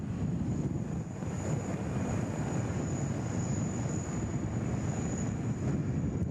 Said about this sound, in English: that wind is just so strong